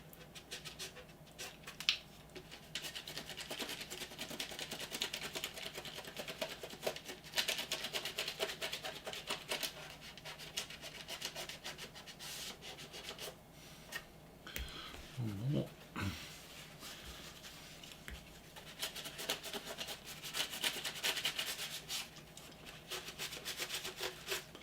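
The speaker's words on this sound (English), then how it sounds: "continue to rub, continue to moisten, and the wash will just literally pull away." A model Star Destroyer's surface being rubbed and moistened to lift off paint wash, giving soft, continuous close rubbing strokes against low background noise, with a brief louder sweep partway through.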